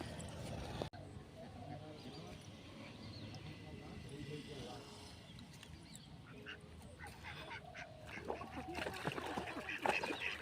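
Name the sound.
ducks quacking and splashing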